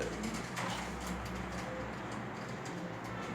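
Pigeons coo softly and continuously in a loft where a mated male and female are kept, a low steady murmur over background hum with no talk.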